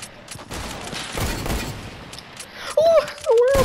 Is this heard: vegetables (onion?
no